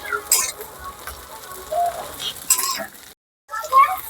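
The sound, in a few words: onion, garlic and green chilli frying in a pan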